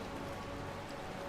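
Rain falling in a heavily modded Skyrim, a steady, even patter that holds without pause from start to finish.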